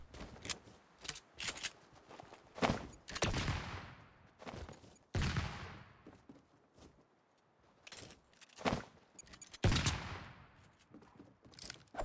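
Bursts of gunfire in the Fortnite video game crack out in irregular volleys, some single shots and some rapid clusters, loud and sharp against quieter gaps.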